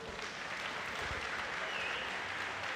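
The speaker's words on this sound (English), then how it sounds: "Ladies and gentlemen, big round of applause." Audience applause at a para-swimming medal ceremony in a large indoor pool hall, a steady, dense wash of clapping that holds at even loudness throughout, with no voices standing out.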